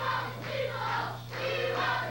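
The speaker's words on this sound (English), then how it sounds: "Hear the crowd picking up the chant" A wrestling arena crowd chants rhythmically for a sleeper hold during a Georgia Championship Wrestling match, two swelling waves of massed voices at moderate distance.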